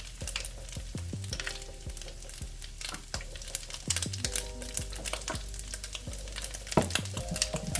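Eggs sizzle steadily in hot oil in a pan while being stirred for fried rice, a continuous crackling fry with occasional scraping, heard under background music.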